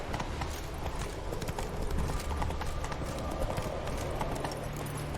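Horse hooves gallop in a steady, fast clip-clop rhythm in The Witcher 3, loud and continuous over a dense game ambience, with a faint whinny-like tone and no speech.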